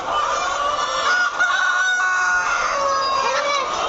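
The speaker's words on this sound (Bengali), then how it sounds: "একটি মাত্র মোরগ ছিল, যেটাই যে এখন আছে" A rooster crows loudly and close by on a layer chicken farm, its drawn-out call ringing over a backdrop of other chickens clucking.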